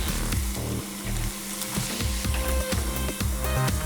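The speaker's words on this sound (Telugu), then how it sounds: "లో ఫ్లేమ్లో గోల్డెన్ బ్రౌన్ కలర్ వచ్చేంత వరకు వేయించుకోవాలి" Sabudana vada deep-fry in oil on a low flame, producing a continuous, fairly loud sizzling crackle with small pops and bubbling throughout.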